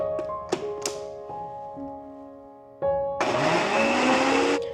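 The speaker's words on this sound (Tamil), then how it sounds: "அப்படியே போட்டு அரைச்சிக்கலாம்." A blender grinds snap melon with honey and water, starting after a few taps and thunks and running loudly and steadily for about a second and a half before it stops abruptly.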